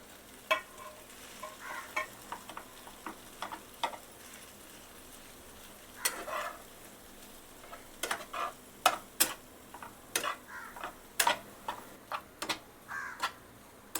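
Leftover rice being stir-fried with turmeric for paneer fried rice, heard as a faint background sizzle broken by frequent sharp scrapes and clanks of a spatula against the pan.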